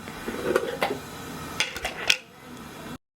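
A spoon scrapes and clinks against a pot while a tablespoon of Better Than Bouillon is stirred in, with light metallic taps and rattles and no talk over them.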